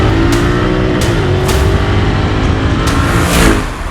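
A Royal Enfield Continental GT 650 motorcycle, with its 650 engine, accelerates hard through the gears, its exhaust note climbing steadily in pitch with brief shifts, loud and close throughout.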